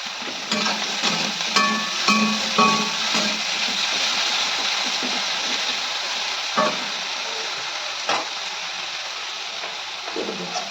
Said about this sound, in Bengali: অল্প একটু বেগুন দিয়ে দিচ্ছি। বেগুনটা লাল লাল করে ভাজবো।